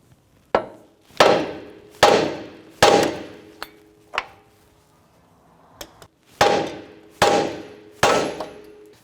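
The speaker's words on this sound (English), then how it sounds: "I'm going to go ahead and hit the top of the knuckle here and release the upper control arm ball joint." Hammer blows land on the top of a steering knuckle on a 2004-2008 Acura TL to release the upper control arm ball joint: about nine sharp metallic strikes, loud and close, in uneven bursts with a pause midway.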